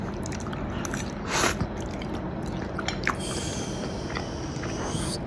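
Close, wet chewing of sweet chili chicken noodles, with squishy bites and a slight slurp partway through, steady and fairly quiet with no talking.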